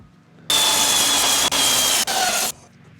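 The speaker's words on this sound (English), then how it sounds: "I'm gonna keep sanding." A loud, steady hissing grind of sanding a wooden tree-limb and epoxy bowl runs for about two seconds, briefly dipping twice, then stops into near silence.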